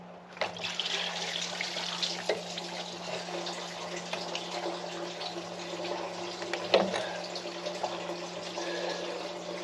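Coolant water draining from the water pump of a 2013 Ford F150 into a drain pan below, a steady splashing trickle running continuously with a few louder spatters, at moderate distance.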